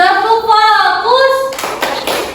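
A classroom clapping routine in which a teacher's chanting voice gives way to a few sharp, rhythmic hand claps by the group, loud and close.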